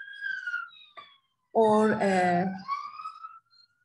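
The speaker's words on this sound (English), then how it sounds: "sorry for the siren" An emergency siren wails with clear rising and falling tones, loud for about a second, while a lecturer speaks before and after it.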